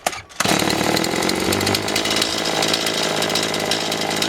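A repaired Stihl 180 chainsaw, already warm, starts and runs loudly on a table, its high buzzing whine steady and close throughout with no talk.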